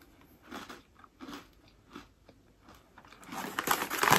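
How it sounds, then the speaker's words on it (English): Someone bites into a crunchy, tangy dollar store snack and chews it up close, with several crisp crunches in an uneven rhythm and a louder crackling burst at the end. "They are so, so good. So crunchy, so tangy, so sweet."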